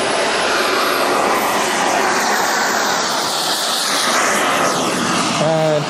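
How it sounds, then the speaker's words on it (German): A 1:5 scale Aviation Design Rafale RC turbine jet, 24 kg with a 212 wingspan, takes off with a loud, steady broadband turbine roar and hiss, a rising tone appearing near the end. "Just taking off is a 1x5 scale Aviation Design Rafale"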